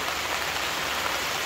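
Steady rain drums on a camping tent at a campsite in Wales, a dense, even hiss of drops close by with no pauses and no voices.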